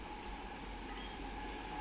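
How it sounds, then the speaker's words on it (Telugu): A passenger train approaches a small, abandoned rural station, heard as a steady low rumble and broad mechanical drone at middling distance with no talk over it. "ఇదేదో ప్యాసింజర్ ట్రైన్ అండి"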